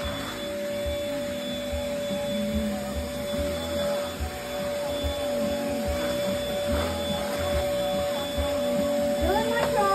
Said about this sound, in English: you don't have to vacuum that area because it's all just cords